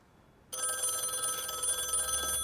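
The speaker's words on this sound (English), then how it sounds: "At that moment, the phone rang." Telephone bell ringing begins suddenly after a quiet moment in a dramatized story, a loud continuous metallic trill that holds steady to the end with no voices.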